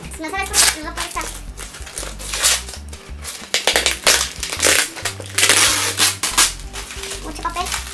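Packing paper crumpled and crinkled loudly while a parcel is unboxed, in repeated bursts close by throughout, with a person talking over it.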